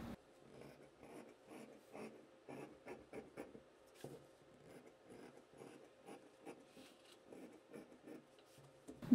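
Scissors cut tricot fabric for a blouson, a soft, rhythmic series of close, quiet snips and rasping slides repeating steadily, with no talking.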